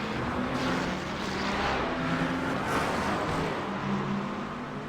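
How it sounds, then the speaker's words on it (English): A Mercedes GT3 race car at Imola roars past amid other GT3 cars, a broad, steady engine rush that stays loud and dense throughout with no talk. "you can definitely hear the roar of that Mercedes as it passes"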